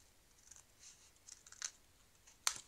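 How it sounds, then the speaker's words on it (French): Paper being cut with scissors while making an album cover, a few quiet snips scattered over a couple of seconds and ending with one sharper, louder cut, close and soft with no talk. "je prends ma paire de ciseaux et là j'ai un trait."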